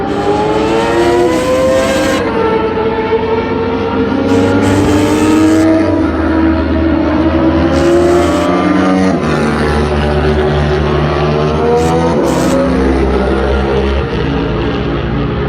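Racing motorcycles, including a KTM Super Duke, roar past at close range on a race track during a track day, engines revving and shifting pitch as they sweep by, loud and continuous with no voices.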